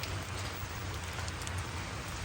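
Rain falls steadily outdoors around a toy RC crawler, a constant dense hiss of drops on surfaces at even loudness with no voices.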